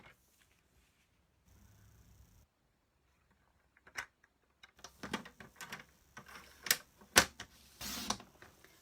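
Cardstock being cut at 2 inches with a paper trimmer: a series of close, crisp clicks and sliding scrapes in the second half, after a near-silent start with a faint shuffle.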